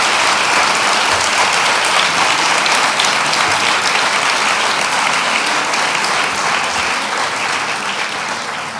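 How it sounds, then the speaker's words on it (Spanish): A lecture audience gives sustained, loud applause after a talk by a priest, dense even clapping that continues throughout and eases slightly toward the end. "Un aplauso, ¿verdad?"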